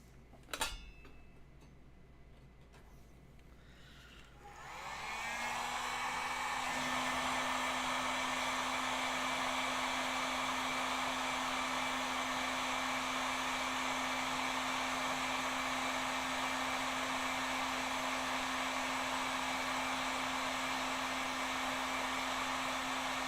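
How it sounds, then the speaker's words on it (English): Heat gun blowing hot air onto a stuck paint can lid, starting after about five seconds with a steady, loud, continuous roar and high whine that holds unbroken to the end, with faint clicks before it starts. "Let me get a heat gun."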